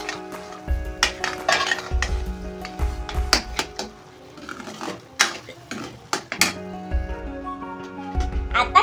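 Walnut halwa is stirred in a pan, with repeated metallic scrapes and clinks of a spoon against the pan over a soft sizzle, close and irregular.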